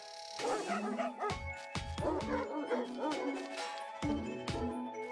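A dog in the video game Bokura barks and yips repeatedly in short, close bursts with brief whimpering between them, fairly loud and steady throughout.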